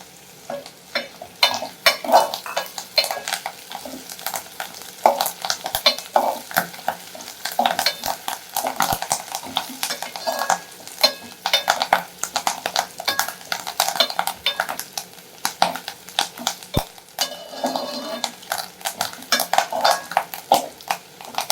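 Dried red chillies and curry leaves fry in hot oil in a pan for beetroot poriyal, crackling and sizzling under repeated scraping of a metal spoon against the pan in an uneven, busy rhythm.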